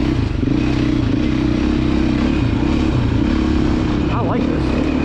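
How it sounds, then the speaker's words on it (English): A 2024 Beta 480 race edition single-cylinder thumper motorcycle engine drones loudly and steadily up close, with a voice talking over the engine noise. "The 480 is a bigger thumper than a 430, but I feel the engine's more revvy."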